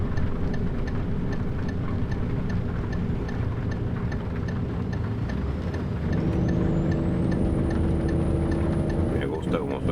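A Kenworth T2000 truck engine idles steadily in the rain, a constant low rumble with a faint regular ticking throughout and a rising whine near the end.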